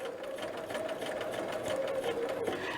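A sewing machine bastes a dress collar for McCall's 8031, running a continuous, steady whirr with even stitching rhythm close by, no talking over it.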